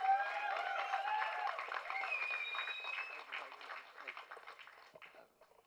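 An audience at a Youth Success Meet event applauds to welcome writer, lyricist, director and actor Ken Karunas to the stage. The dense, sustained clapping starts loud and gradually fades away.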